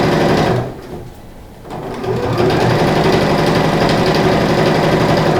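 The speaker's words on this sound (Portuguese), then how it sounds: "máquina de costura, pezinho de máquina, e também vou costurar sem chegar até o final." A sewing machine with a presser foot stitches the corners of a fabric clothes-organizer envelope, running in a close, loud, rapid whir that briefly pauses before resuming steadily.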